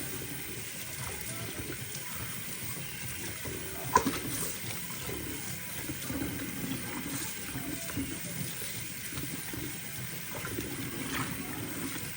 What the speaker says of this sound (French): je vais laver environ 700 g de pâte de bœuf